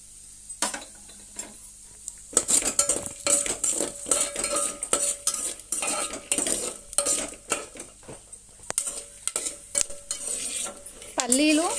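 Peanuts fry in a few spoons of hot oil while a metal spoon scrapes and clatters around the pan, with rapid irregular clinks over a soft sizzle, close and fairly loud.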